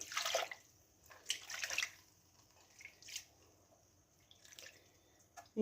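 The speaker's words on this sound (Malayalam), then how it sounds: "ഇച്ചിരിയും കൂടെ വെള്ളം ഒഴിക്കാം" Water poured into a clay pot of simmering red fish curry, heard as a few short, faint splashing bursts separated by quiet, with no talk.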